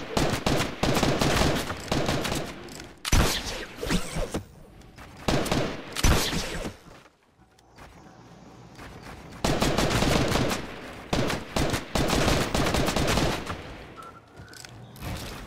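Rapid bursts of gunfire in a Fortnite one-on-one match crackle loudly and densely, with a brief lull midway before another sustained volley, no talking.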